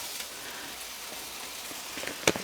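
Food sizzling on a backyard garden barbecue grill, a steady close hiss with a few sharp crackles near the end.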